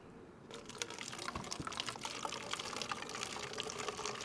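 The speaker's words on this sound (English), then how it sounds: "I could refill your bottle for you." Water pours and trickles as a bottle is refilled in the survival video game DayZ, a continuous soft splashing with small drips, fairly quiet and with no talking.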